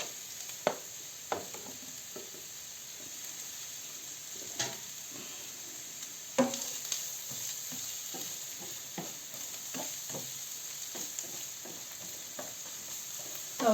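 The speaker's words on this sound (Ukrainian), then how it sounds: "Будемо смажити спочатку цибульку." Steady sizzling of onions frying in oil in a hot pan, with occasional stirring clinks and scrapes, no voices.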